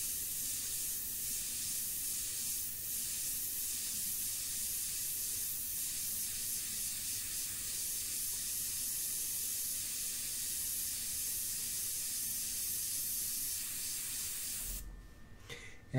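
An airbrush sprays India ink in a continuous, even hiss that runs close and steady for most of the clip, then cuts off abruptly near the end.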